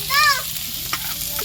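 Tempering spices and garlic sizzle in hot oil in a pan under a brief high whistle-like tone at the start, followed by soft crackling and a single clink.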